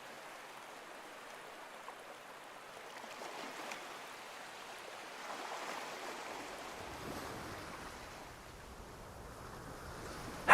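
Ocean waves wash faintly and steadily in the video game Love and Deepspace, a soft, airy surf that swells slightly louder toward the end.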